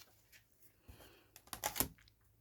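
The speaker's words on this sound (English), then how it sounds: "And I'm going to cut a little bit off the top." Scissors snip a small strip off the top edge of a sheet of paper at a crafting table, a few quiet crisp cuts ending in a sharper, louder snip near the end, with no talking.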